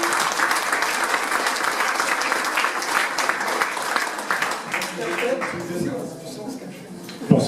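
An audience at an outdoor gourmet food event in France claps steadily and densely for several seconds before the applause fades out.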